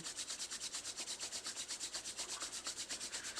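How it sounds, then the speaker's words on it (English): Palms rubbing briskly together in a quiet yoga session, a faint, even back-and-forth swishing that repeats in a fast steady rhythm. "Gently open the eyes and rub the palms one more time."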